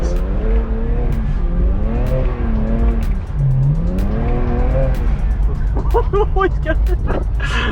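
A BMW E92 335i with the N54 engine slides sideways, its tires squealing in wavering tones over a loud, steady engine roar. Sharper squeals follow near the end, and people talk over it from inside the car.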